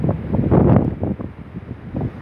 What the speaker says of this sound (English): These wind gusts are even powerful.